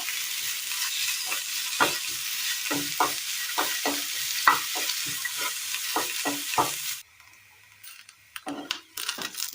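Okra and onion sauté in a pan for a Kerala curry, a steady sizzle broken by regular scraping stir strokes for several seconds before the frying sound drops away to a few quieter clinks.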